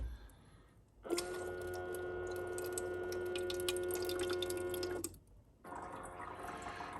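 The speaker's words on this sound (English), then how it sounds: "Draws the water from the bottom reservoir where we put it before." A countertop ice maker pumps water up from its bottom reservoir, giving a steady mechanical hum with a sustained tone and gurgling water for about four seconds before stopping, then a softer rumble follows.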